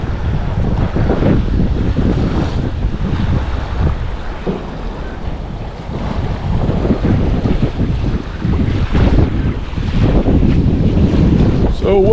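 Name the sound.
strong wind by the bay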